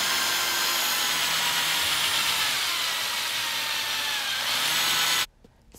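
A drill with a paddle mixing cement grout in a bucket: a loud, steady whirring drone with gritty churning that runs unbroken and then cuts off abruptly near the end.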